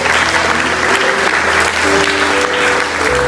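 A church congregation applauds with steady, dense clapping throughout. The crowd sounds fairly close and the clapping is loud, with only a faint hint of voices underneath.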